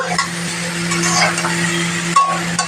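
Potato and papaya curry being sautéed and stirred in a pan, with a steady close sizzle and scraping over a constant low electrical hum, a sharper clatter near the end.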